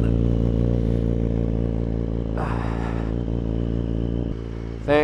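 An HP4 Race track motorcycle runs with a steady, close engine drone, holding a constant low, buzzing tone throughout before a brief shift near the end.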